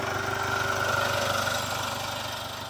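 A rebuilt Jaguar F-Pace engine idles steadily with an even, fairly loud mechanical hum and a faint rhythmic pulse that holds for the whole stretch, with no talking.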